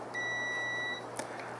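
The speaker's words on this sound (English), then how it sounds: "we're gonna listen for a beep." A continuity tester gives one steady electronic beep of just under a second while house wiring is checked end to end, close and clear, with a faint click afterward.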